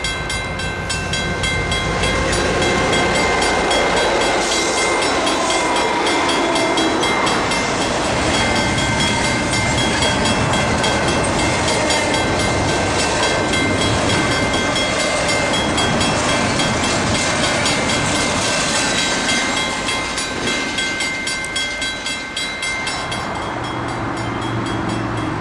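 A westbound Santa Fe train rolls past the Pittsburgh depot, a steady loud rumble of railcars with rhythmic wheel clatter lasting throughout, close by and uninterrupted.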